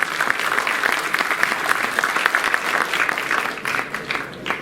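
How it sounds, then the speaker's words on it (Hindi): Audience applause at a foundation's welcome for its chief guest, a loud, dense burst of clapping from a crowd, continuous and close. "आप सबसे गुजारिश करता हूँ जोरदार तालियों से उनका स्वागत अभिनंदन करें"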